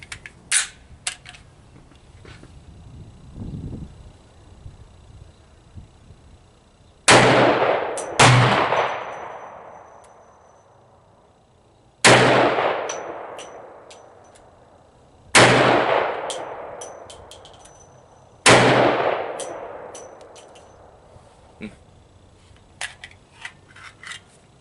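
A Desert Eagle fires Freedom Munitions 240gr RNFP .44 Magnum rounds at steel targets, five loud booming shots spaced a few seconds apart, each ringing out and fading, with small handling clicks between.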